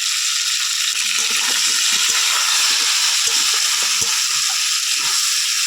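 Potatoes and pointed gourd, lightly salted and dusted with turmeric, fry in a pan in a village kitchen, giving a steady, even sizzle and hiss throughout, with faint soft stirring knocks underneath and no talk.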